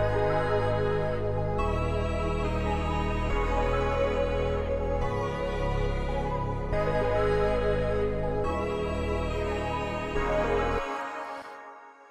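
Layered synth pads and stacked melodic sounds from a trap-style beat, a steady sustained loop of chords with no percussion, playing loudly and evenly before fading out at the end.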